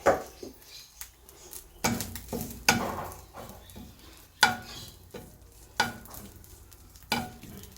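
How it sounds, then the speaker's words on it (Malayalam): Stirring scrapes and light sizzling of grated coconut roasting in a pan, with irregular clanks of a utensil against metal every second or so, close by and without talk. "തേങ്ങ ഒന്ന് നന്നായി വറന്ന് വരട്ടെ"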